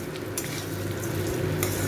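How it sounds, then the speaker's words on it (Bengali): Washed, drained rice frying in a pan over low flame, a dense continuous sizzle with scraping stirring strokes, close and steady, no voices. "দিয়ে চালটাকে আমি একটু ভালো করে ভেজে নেব"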